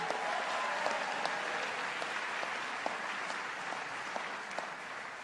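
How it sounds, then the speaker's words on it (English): A crowd applauds Bill Thompson, chairman of CUNY, at a public announcement on free tuition for state colleges. The clapping is dense, steady and sustained throughout, with a few sharper claps standing out. "Let's give him a big round of applause."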